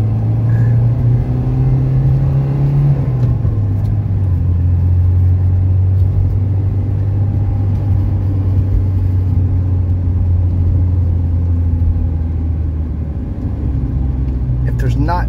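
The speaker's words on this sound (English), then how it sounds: "when you start out, you just floor the gas pedal" A 1982 Mercedes 240DD diesel sedan pulls away under full throttle, its engine droning steadily loud and close inside the cabin, the pitch shifting as it climbs through the gears, with a voice talking over it.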